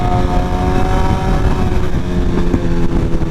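A BMW S1000RR sport bike engine running rich idles and burbles loudly and close up, a dense rough rumble with occasional sharp exhaust pops and crackles.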